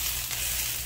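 Garlic fries in a pan for Mexican street corn, giving a brief, even, dense sizzle heard up close with no voices.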